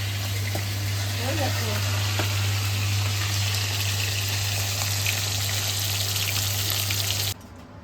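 Magur catfish fries in hot oil with a steady, close sizzle and scattered spattering over a low constant hum, cutting off abruptly just before the end.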